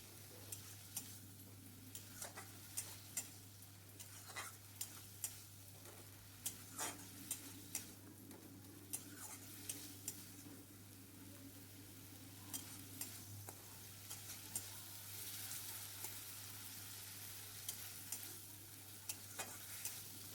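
Chopped tomato with salt cooking in a pan: a gentle, steady sizzle with light, regular taps and scrapes of a spoon stirring, alone and fairly quiet.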